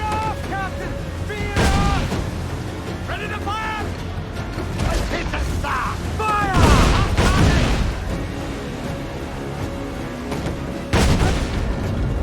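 Ship cannon fire during a naval battle in Assassin's Creed IV Black Flag, with several loud booming shots spaced irregularly amid shouted crew voices and creaking timber.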